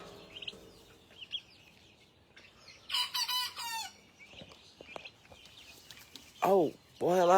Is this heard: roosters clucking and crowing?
yes